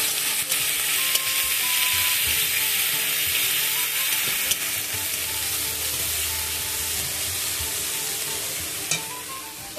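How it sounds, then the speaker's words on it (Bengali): Ginger-garlic paste masala sizzles loudly and steadily in a pan for a prawn and fig curry, with a spatula stirring and scraping now and then, close up and heard alone. "মশলাটা খুব ভালোভাবে কষিয়ে নিতে হবে।"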